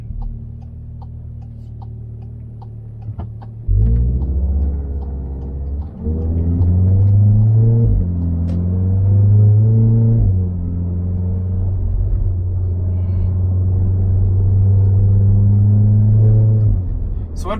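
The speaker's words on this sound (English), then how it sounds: "an updated exhaust system" A VW Golf 7R with an updated exhaust system rumbles while driving, a deep, loud, close droning hum with rising and falling engine pitch as it accelerates and shifts.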